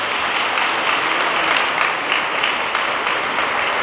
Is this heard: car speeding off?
no